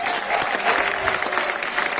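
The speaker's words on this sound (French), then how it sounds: "Est-ce qu'on peut applaudir pour nous-mêmes ce soir?" Comedy gala crowd applauding themselves, thick continuous clapping with some crowd noise and faint voices underneath, loud and close throughout.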